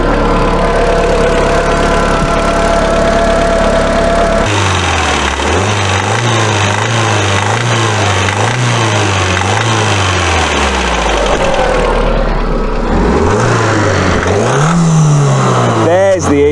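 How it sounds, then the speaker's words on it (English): Audi TT engine idling and revving with a knock, running steadily throughout, loud and close, with a rise in revs near the end. "There's the issue. There's a bit of a knock."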